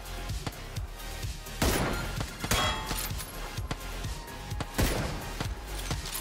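Rapid gunfire crackles in bursts in PUBG as shots are fired at a skiff on the water, sharp loud reports repeating over a dense, busy background of game sound.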